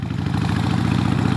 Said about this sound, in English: Back to the world of the combustion engine.